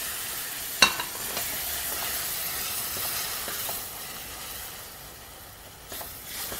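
Tomatoes and peppers for menemen fry in a pan, a steady close sizzle under occasional spoon clinks and scrapes as they are stirred, with no talking.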